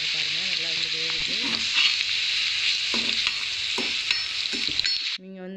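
Bitter gourd pakoda fries in hot oil with a loud, steady crackling sizzle throughout. Faint humming tones sit under it, and the sizzle cuts off near the end.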